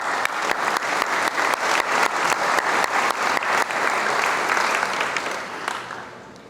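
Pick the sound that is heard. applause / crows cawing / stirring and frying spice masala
applause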